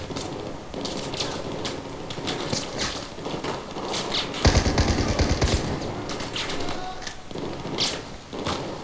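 Gunfire in the video game Battlefield 4 comes as rapid, clattering automatic bursts and sharp single shots. The shots are scattered through a busy battle soundscape at moderate loudness, with a heavier burst in the middle.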